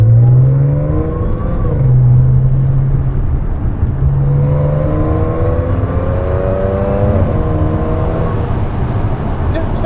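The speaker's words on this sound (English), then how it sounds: "you can definitely hear the supercharger. It sounds great." A supercharged Audi S4 fitted with a RocEuro intake revs hard from inside the car, its engine note rising and falling in repeated loud pulls with a supercharger whine on top.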